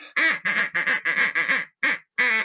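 A voice imitating a duck gives a quick run of about eight loud, nasal quacks in close succession, with short gaps near the end.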